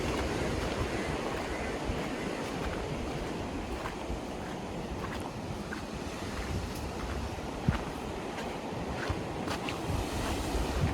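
Sea waves rolling in at a beach, a continuous broad rumble of surf mixed with wind buffeting the microphone, steady and fairly loud with no voices.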